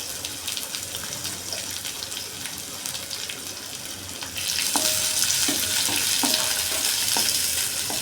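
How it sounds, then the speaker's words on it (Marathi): Onion with curry leaves, garlic, mustard seeds and cumin fries in hot oil, a low sizzle that suddenly swells into a louder, brighter crackling hiss with occasional stirring clatter. "फोडणीसाठी तेलात कढीपत्ता, थोडासा लसूण, मोहरी, जिरे, त्यात कांदा घालून घेतला."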